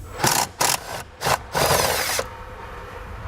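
A ratchet on a 13mm socket with a long extension works a nut loose under a 2018 Jeep Wrangler JL, giving several loud, close bursts of clicking with short pauses between them.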